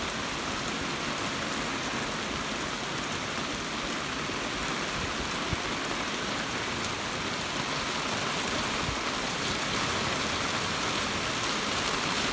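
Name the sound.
rain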